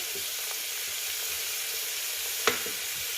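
Chicken pieces frying with browned onions and a little salt in a pan, a soft steady sizzle with scattered crackles and one sharp utensil clink near the end.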